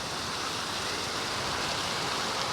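A waterfall in the middle of a roundabout in Kato Paphos, a dense, steady, close rushing wash of falling water without a break.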